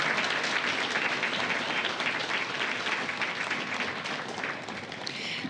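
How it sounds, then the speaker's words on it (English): An outdoor audience at an Air Force basic military training graduation parade applauds veterans, a dense sustained clapping that stays strong for several seconds and then tapers slightly. "Round of applause for our veterans."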